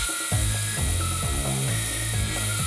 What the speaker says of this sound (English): And then I just turn the drill on